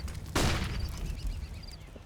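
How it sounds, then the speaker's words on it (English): A flashbang grenade detonates in a video game with a sudden broadband burst, followed by a fading high ringing tone and low rumble. "Throwing flashbang."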